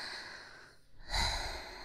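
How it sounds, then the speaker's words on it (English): Breathing into a 3Dio binaural microphone: a soft, airy inhale fades to a brief hush, then a fuller, close exhale that sounds like a sigh. "I'm practicing breathing."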